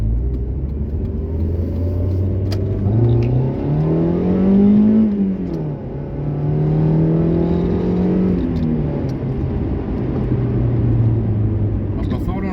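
A Mazda 323F GT drives and accelerates, its engine droning and rising in pitch through the gears, loud and close from inside the car, with someone talking over it.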